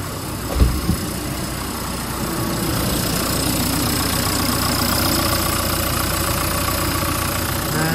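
A Mercedes-Benz B-Class engine idles steadily after an oil and filter change, a low even hum heard close up, preceded by a couple of brief knocks near the start.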